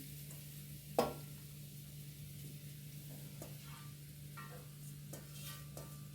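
Faint, steady sizzling of grated coconut frying in a kadhai, with soft scraping from stirring and one metallic clank near the start.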